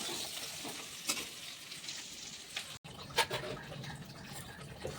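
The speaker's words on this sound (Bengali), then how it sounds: "আজকে মাছের ঝাল রান্না হচ্ছে আর কি, এখন রান্না চলছে।" Fish curry with mustard paste sizzles steadily in the pan, a close, continuous hiss broken by a couple of brief stirring clinks.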